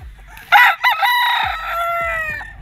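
A gamefowl rooster at a game farm lets out one loud, close crow that stretches and fades over about two seconds, with faint thumps in the background and no talking.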